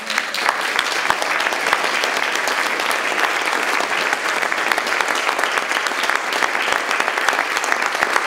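Sustained audience applause at a public event, dense steady clapping from many hands filling the whole stretch without a break.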